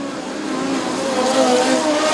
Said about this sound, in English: Now your two lead cars are running nose to tail out on the track